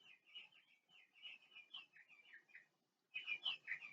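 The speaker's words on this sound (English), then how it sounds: "my bird clock is going off" A bird clock chimes with recorded birdsong, giving a quiet run of chirpy, warbling calls that pauses briefly and then returns a little louder.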